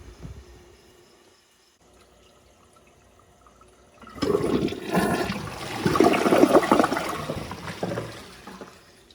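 A 2015 American Standard Champion 4 Max toilet flushes after a near-silent pause, breaking into a loud, close rush of swirling water that swells and then gradually drains and fades.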